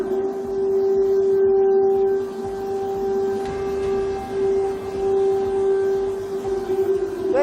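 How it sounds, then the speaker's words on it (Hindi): An air raid siren sounds over Kyiv during a night of Russian attacks, a loud steady wailing drone holding a sustained pitch with harmonics, continuous throughout with no speech. "ये तस्वीर आप देख रहे हैं यूक्रेन की तस्वीर है जहां सायरन बज रहा है।"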